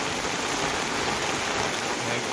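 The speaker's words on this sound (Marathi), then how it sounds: "पाऊस कसा पण तिरका पडतो आहे" Heavy rain falling slantwise onto a flooded home terrace in Kudal, a dense, steady, loud hiss of water that continues without a break.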